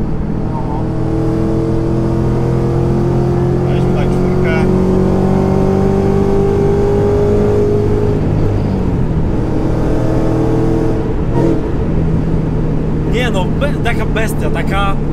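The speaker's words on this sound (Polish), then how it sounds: "zaraz zobaczymy, będzie słychać kompresor przy 4000." Ford Mustang Shelby GT500 with a 756 hp supercharged engine revving, a rising supercharger whine climbing over a deep engine drone, then falling away, with louder bursts near the end; close, loud and steady.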